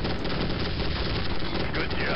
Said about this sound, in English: Just gonna go ahead and shoot a bit with my side cannons.